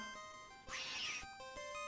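A cat in the Harry Potter II video game (Chamber of Secrets) lets out a single clear meow lasting about half a second, rising above a steady bed of game music.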